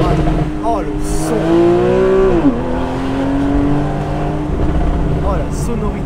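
Porsche 991.1 4S Cabriolet flat-six engine while driving, a steady loud engine drone with a rising and falling pitch sweep as it revs, with people talking over it inside the car.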